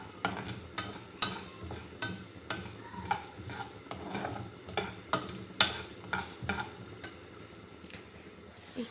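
Mustard seeds dry roast in a pan, a spatula stirring and scraping in a steady rhythm of crisp strokes while the seeds crackle and pop faintly between them.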